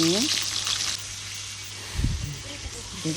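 Egg frying in oil in a pan, a steady faint sizzle with a few brief clatters toward the end and a voice speaking at the start.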